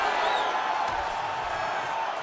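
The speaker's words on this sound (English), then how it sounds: "big pop from the crowd as they get back to their feet" A crowd at a fight in the video game UFC 5 cheers, a steady, dense roar of many voices sustained throughout, with no pauses.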